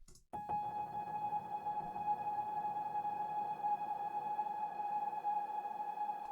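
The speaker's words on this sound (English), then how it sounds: "we're playing that on the soft piano from Labs" A soft piano drone from Labs, shaped with EQ and reverb into a dark ambient texture, holds a steady sustained tone with a bright ringing band and a low wash beneath, unbroken and even for several seconds.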